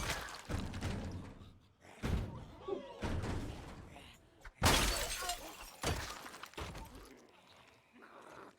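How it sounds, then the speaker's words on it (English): Video game zombies pound on a door in repeated heavy thumps and rattling slams about once a second, with one especially sharp crash midway and muffled noise between blows. "Why are they banging on that door?"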